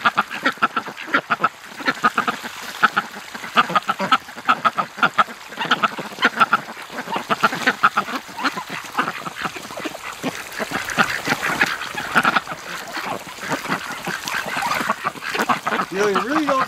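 Muscovy and other breeding ducks splash and play under a cold garden hose shower in a snowy garden, with busy quacking and honking over constant spraying water, loud and close throughout.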